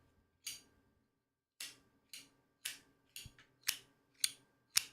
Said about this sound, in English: He's sitting and clicking the Zippo.